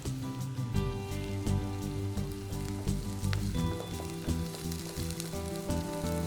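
Curry leaves and green chillies sizzle in hot oil in a kadai, a loud, dense crackling fry with sharp pops throughout and no voices.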